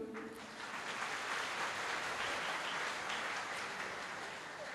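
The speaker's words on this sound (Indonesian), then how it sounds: "Kasih aplaus dulu." An audience claps at a Buddhist talk show event for a monastery head from Blitar, East Java, with a sustained, even wash of applause heard from a distance.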